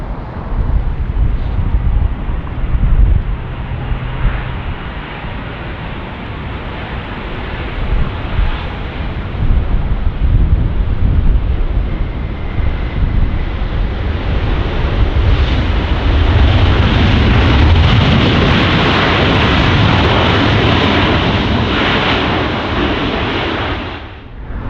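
An American Airlines heavy airliner lands at Los Angeles International Airport on runway 24 right, close to a parallel runway where a Boeing 777 departs. A loud, sustained roar with broad rumble and wind buffeting lasts throughout and swells toward the end.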